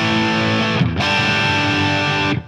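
A heavily distorted electric guitar rings out with thick, saturated overdrive, a brief break, then another sustained gritty chord.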